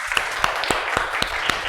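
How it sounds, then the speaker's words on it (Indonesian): Thin, scattered clapping from a small group after a classroom group presentation, a few sharp claps standing out over a faint wash of hands, brief and fairly quiet. "Beri tepuk tangan."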